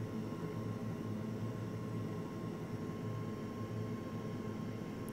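A Hawk T1 jet aircraft flying aerobatics gives a steady, loud engine drone with a dense broadband roar and a faint tonal hum that holds unbroken throughout.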